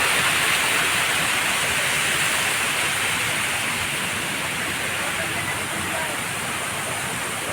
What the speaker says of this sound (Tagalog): Maagos ang tubig.